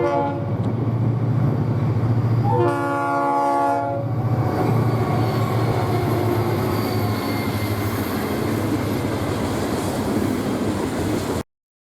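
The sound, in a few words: freight train led by engine 407 hauling sugar cane empties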